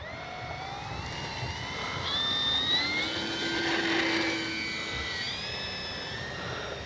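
Remote-control model Focke-Wulf Ta-152H warbird flying with gear down, its small motor whining steadily as it passes by, rising in pitch and loudness mid-pass and then fading slightly, with no talking.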